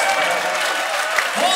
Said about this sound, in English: Please, hold your applause until I say his name.